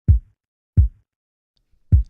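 Three soft, deep kick drum thumps spaced unevenly as part of a swung beat with a shaker, the shaker barely audible between the hits.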